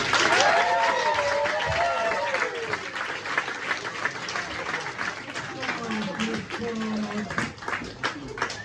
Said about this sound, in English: Ladies and gentlemen, please go crazy for the wonderful Nick Hill!